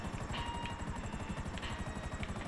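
Aircraft engine in a Rockstar video game, a steady loud rotor-like drone with rapid pulsing throb running continuously throughout.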